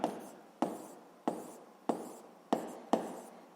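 Pen or chalk marks written out for a school physics calculation, six sharp strokes at a steady pace about every half second, each tap fading into a short scratch, close and clear with no talk.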